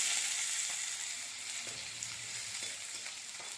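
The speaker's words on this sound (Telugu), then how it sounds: "అది వేగుతుంది." Food sizzles and crackles steadily in a frying pan, a soft, even hiss with occasional small pops and stirring sounds, no voices.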